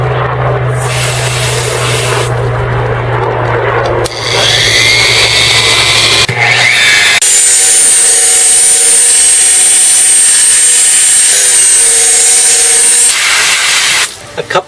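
Power sander set to a low speed level working over scratched car paint, a loud steady whine and rubbing drone that shifts pitch as the pad moves across the panel, close and continuous.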